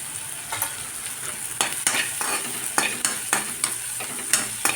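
Vegetables with tomato and turmeric fry in oil in a pan, a steady close sizzle broken by repeated scraping stirs of a spoon against the pan, with no voices.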